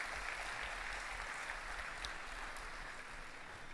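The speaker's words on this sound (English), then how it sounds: "Let's give them a round of applause, please." Steady, dense applause from a student audience at a university orientation, greeting the student guild officers; continuous clapping fills the whole stretch at an even, moderately distant level.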